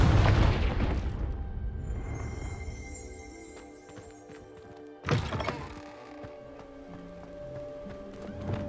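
A Confringo fire spell blasts inside a dusty room in Hogwarts Legacy, a loud burst followed by a ringing, fading magical tail, then a second sharp impact midway, with faint chiming effects lingering.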